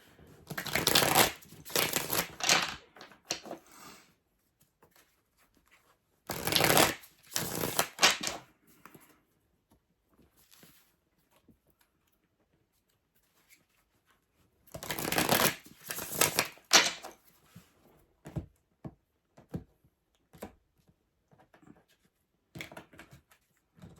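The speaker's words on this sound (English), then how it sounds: "I want to get another layer of cards here with the Yin Yang Oracle, and then I'm going to clarify." Oracle cards being shuffled for a tarot reading, bursts of riffling and shuffling a few seconds long separated by quiet pauses, followed by lighter scattered taps of cards being handled, close and alone.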